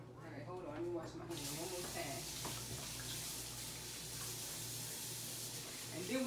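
Hot grease in a frying pan readied for hot water cornbread sizzles with a steady, bright hiss that swells and holds throughout, and a voice talks faintly beneath it.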